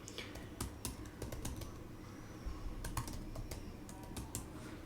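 Someone types a business ID on a computer keyboard, with quiet, irregular key clicks falling in two clustered bursts over a low background hum.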